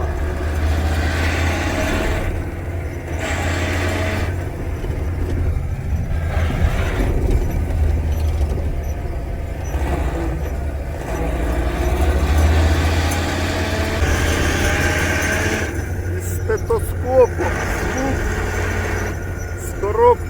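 A military Nissan NP300 pickup with a suspected dry, oil-starved gearbox whines and drones steadily while driving, a low continuous rumble under frequent talk throughout.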